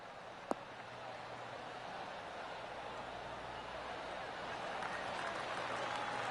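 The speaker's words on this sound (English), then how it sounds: "Oh, golf clap." Soft, steady golf crowd applause from the video game PGA Tour after a big drive, with a light wash of noise throughout, swelling slightly toward the end; a single sharp click near the start.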